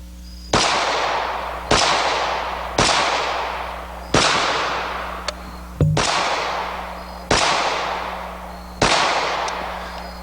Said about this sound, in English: Let's briefly shoot it.